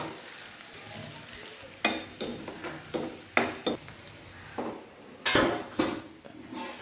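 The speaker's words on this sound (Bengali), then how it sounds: "এটা আমি লাল লাল করে বেরেস্তা করে নেব" Onions fry in white oil toward a browned beresta, a soft sizzle punctuated by several sharp clanks of a spatula scraping and knocking against the pan.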